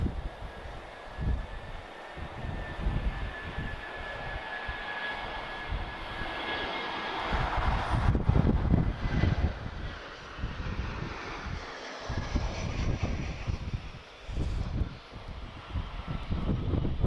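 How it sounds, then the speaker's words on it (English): An easyJet Europe Airbus A320-214 jet airliner at Lisbon Airport gives a continuous, moderately loud engine roar with a faint whine, swelling slightly midway and then holding steady. "This is an A320-214. Or the OG A320 as I like to call it, and operated by EasyJet Europe."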